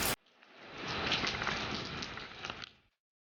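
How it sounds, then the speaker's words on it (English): Steady rain falls around a truck at an outdoor shooting range, a soft even patter lasting a few seconds after a brief sharp sound at the start. "waiting on the rain to let up a little bit so we're not getting too soaked"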